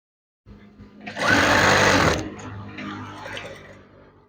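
A sewing machine stitches fabric for a butterfly-style curtain in one steady, loud whirring run of about a second, then slows and fades into lighter mechanical hum, close up and without speech.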